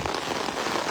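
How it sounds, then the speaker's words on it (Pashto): Heavy rain during a storm in Sawaldher, Mardan, Pakistan, a dense, steady hiss of drops pattering on surfaces close by with no voices. "باران شروع شو."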